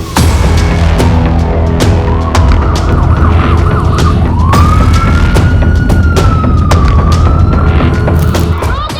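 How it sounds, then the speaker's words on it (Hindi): A siren wails steadily, rising and falling over a dense, loud background of rumbling and clatter. "सायरन बजने लगे, धमाके होने लगे"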